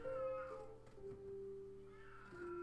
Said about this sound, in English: Cat is meowing like crazy again.